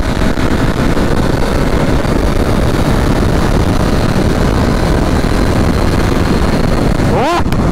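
A Honda Africa Twin DCT motorcycle runs in automatic mode at the Interlagos circuit, its engine roaring loudly and steadily under heavy wind rush, with a quick rising pitch sweep near the end as it shifts.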